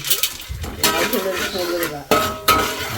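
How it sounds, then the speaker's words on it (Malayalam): Roasted chana dal stirred in a pan with popped mustard seeds while making rava upma: clinking metal spoon scrapes and knocks against the pan, several sharp taps, with some faint talk. "പൊട്ടിക്കടലിട്ട് കുറച്ച് ഇങ്ങനെ ഒന്ന് ഇളക്കി കൊടുക്കുക"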